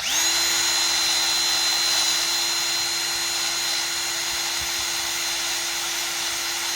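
A power drill whines steadily at high speed while working on a 1996 Jeep XJ's ball joints and hubs, a continuous loud motor tone that holds for the whole stretch with no pauses.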